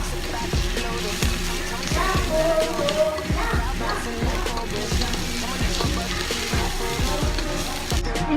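Chopped garlic sizzles and fries in hot oil in a pan for Italian spaghetti, a steady crackling hiss broken by regular stirring taps throughout.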